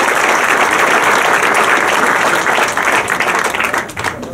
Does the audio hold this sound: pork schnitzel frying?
no